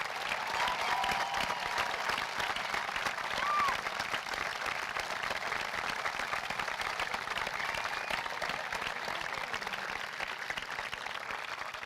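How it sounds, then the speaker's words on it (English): A large graduation crowd at a high school ceremony applauds a graduating Marine, sustained, even clapping heard from some distance, filling the hall at a constant level with faint voices mixed in. "everyone give him your biggest round of applause"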